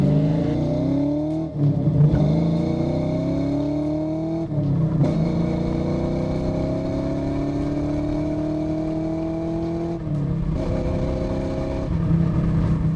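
A car engine revs up repeatedly, each rise climbing in pitch before dropping back with a gear change, loud and close with no talking.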